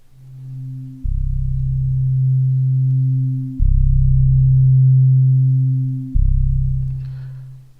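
A steady synth tone in Drambo, processed through two filters, holds low pitched notes, shifting abruptly a few times, with a smooth filtered hum and no voices.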